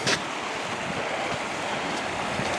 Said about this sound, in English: the River Brun, Brunley. There it is, running through the heart of town.